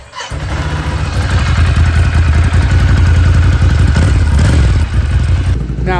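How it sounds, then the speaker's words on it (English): A Ducati Scrambler motorcycle with its stock exhaust idles and revs up close, a loud rumbling engine throb that swells and settles over about six seconds, with no talk. "Let's hear that stock one more time."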